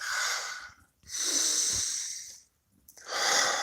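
Slow, deep breaths during a guided meditation: a long airy inhale and exhale close to the microphone, a short pause, then another breath beginning.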